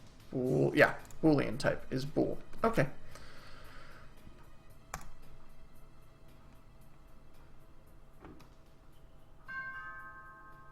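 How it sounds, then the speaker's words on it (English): A household dog barks in quick bursts mixed with someone talking at first, then after a quiet stretch a doorbell chime rings out near the end. "that was my doorbell and my dog"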